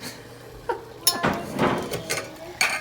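Hot boiled eggs clatter and clink against a dish several times, sharp knocks spread over a couple of seconds at close range.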